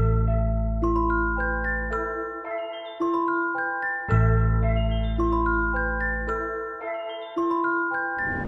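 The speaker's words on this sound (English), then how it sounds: "I kept the bass, and now the sample sounds like this." Ambient sample built in FL Studio: a clear, bell-like melody steps through repeating phrases over deep sustained bass notes that restart every few seconds, with a calm, evenly paced rhythm and no voices.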